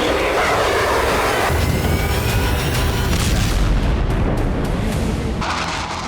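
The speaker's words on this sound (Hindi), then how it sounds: "लेबनान से लगती सीरिया बॉर्डर पर जबरदस्त धमाके किए जा रहे हैं।" Heavy explosions from Israeli bombing near the Lebanon–Syria border, with deep booming blasts and a loud aircraft-like roar rolling continuously through the whole span, dense and powerful with no talk.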